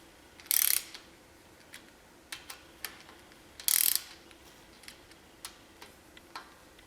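Torque wrench clicking as it tightens differential cover bolts on a Dana 44 front axle from a 1980 Chevy Silverado: two louder bursts of ratcheting plus scattered sharp ticks and clicks, close and alone in a quiet garage.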